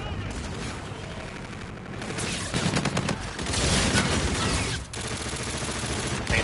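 Rapid automatic gunfire from a gun, apparently the G-Rail, in a first-person shooter video game. Bursts of shots come close and loud, with short pauses between them.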